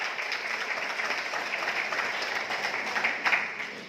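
Steady applause from a crowd, continuous and moderately loud, with clapping sustained throughout and no talk.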